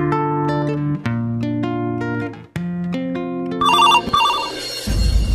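A mobile phone ringtone announcing an incoming call plays loud and close as a melodic electronic tune, ending in a bright warbling burst, with no voices over it.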